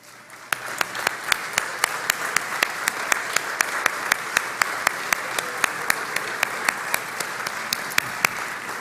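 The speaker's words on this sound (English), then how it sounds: "please stand for a round of applause." Audience at an alumni awards event applauding steadily, a full, even crowd clapping with a close, regular beat of loud individual claps running throughout at a brisk rhythm.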